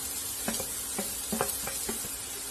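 Chopped onion added to garlic frying in hot oil for a bread lasagna, giving a steady hiss of sizzling with soft stirring taps and small crackles spread through, near and alone.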